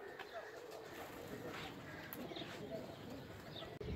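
Breeder pairs of pigeons coo softly and intermittently amid a dense hiss of background noise, faint and low in level, with voices talking nearby.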